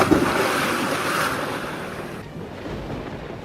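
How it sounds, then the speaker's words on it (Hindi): Ocean waves surge and wash in a broad roar, with wind gusting over the microphone, loud and continuous before easing slightly. "लहरें बेकाबू थीं, कभी वो गुरप्रीत को बहा ले जाती"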